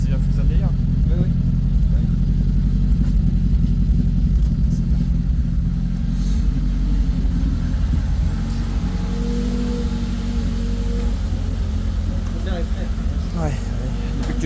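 A car engine idles steadily with a constant low rumble throughout, close and loud in a home garage-repair setting, with voices talking faintly over it.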